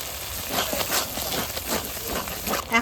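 Whisked sour yogurt goes into a frying pan of mixed vegetables for a vegetarian curry, and the oil sizzles with steady crackling, spitting bursts that stay loud and close throughout, with no talking.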